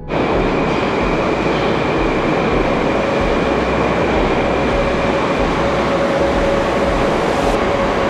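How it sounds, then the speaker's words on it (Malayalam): A Moscow Metro train arrives at a station with a loud, steady roar of wheels and motors, a sustained rumble with faint high whine held close and constant throughout, no voices. "അടുത്ത ടൈപ്പ് മെട്രോ എത്തി."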